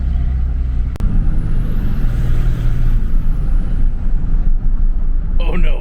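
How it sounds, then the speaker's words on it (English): A 5.9 Cummins 3rd Gen diesel fitted with a cool hose intake hose rumbles loudly and steadily while its turbo whistle rises in a high, thin tone, holds, then fades away, close and strong throughout. "sounds like the turbo's spooling up a little faster"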